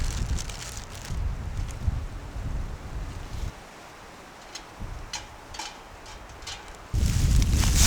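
Steady wind roars and buffets the microphone, easing for a few seconds before gusting loudly again; no voices.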